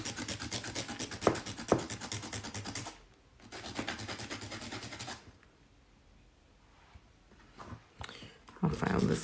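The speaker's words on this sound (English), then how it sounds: "I feel like I'm filing the tip." A fingernail tip is filed in two bursts of rapid, scratchy rasping strokes. The second burst is followed by quieter rustling and handling noise, with faint voices in the background.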